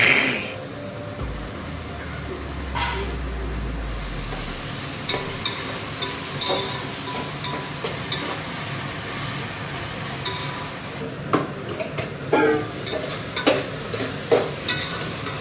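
Onion and tomato fry in a pan as a biryani gravy base, a soft ongoing sizzle broken by scraping stirs and clinks of the spoon that grow more frequent toward the end.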